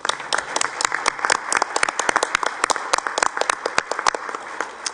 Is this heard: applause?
yes